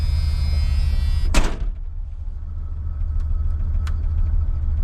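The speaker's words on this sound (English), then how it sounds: "Let me shut that door." Door of a Ford F150 pickup truck shut once with a solid thud, heard close over the steady low rumble of the idling engine, which continues afterward with a few faint clicks.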